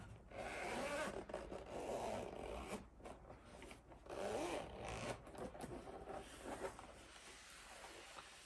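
A rigid, premium-feeling Steam Deck carrying case being unzipped, with long scraping zipper pulls repeated several times at close range and no talking.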